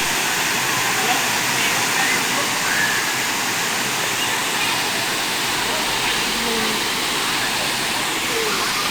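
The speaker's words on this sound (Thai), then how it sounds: "น้ำที่ไหลลงมานี้นะครับก็จะลงไปสู่เขื่อนเก็บน้ำศรีนครินทร์นะครับ" Huai Mae Khamin waterfall in Kanchanaburi pours through dense forest, a loud, steady rushing roar of falling water that fills the scene continuously with no pauses.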